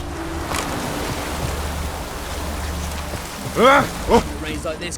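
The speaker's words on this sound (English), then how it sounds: "It's really raining now." Steady rain hisses throughout in the video game The Witcher 3: Wild Hunt, with a low rumbling backdrop and a couple of brief splashy bursts near the end.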